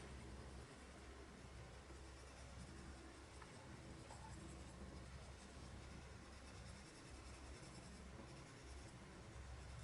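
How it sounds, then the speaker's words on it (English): Steady soft scratchy scraping of colored pencil strokes across paper, continuous and close, with no talking. "that sound that it makes when the pencils go across the paper"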